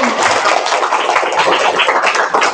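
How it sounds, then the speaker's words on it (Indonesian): Applause from a health-education audience breaking out for Adi after he answers a quiz question, a dense, steady patter of many hands that stays loud and continuous throughout without letting up. "tepuk tangan untuk Adi"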